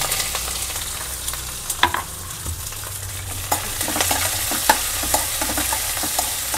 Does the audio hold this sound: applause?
no